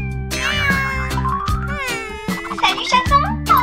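A kitten at an animal hospital meows repeatedly and insistently, loud and close, with several drawn-out cries in a row.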